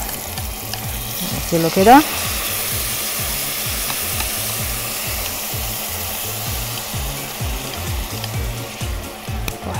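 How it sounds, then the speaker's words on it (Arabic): Shrimp dropped into hot oil for a basil shrimp pasta sizzle and fry steadily, with a brief louder splash as they go in, then a continuous close crackle throughout; a voice speaks briefly near the start. "خلاص الزيت سخن، ننزل بقى بالجمبري"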